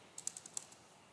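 Keys clack on a computer keyboard in a VS Code setup, a faint, quick cluster of about six light taps close by, then quiet.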